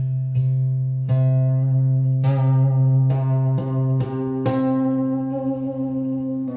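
A harpejji is strummed several times, each bright chord ringing out and sustaining before the next, with no one talking.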